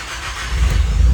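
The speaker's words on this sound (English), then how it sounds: "let's hear the car" Nissan Silvia S15 Spec R with a test pipe cat delete, its engine turning over and catching, a steady low rumble building loudly over a second with no talk.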